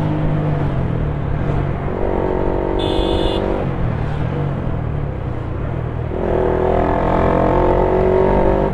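A car horn sounds in traffic, two sustained honks of about a second or more each over the continuous rumble of a moving vehicle, with a brief higher beep between them.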